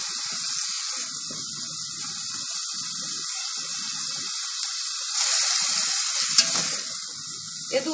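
Chopped onion and garlic sauté in a pan with a constant close sizzle, broken by soft scraping bursts of stirring and a brief louder flare of frying near the end.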